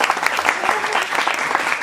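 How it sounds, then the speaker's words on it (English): An audience at a hall of fame event claps in a loud, dense round of applause. "Come on, a little round of applause."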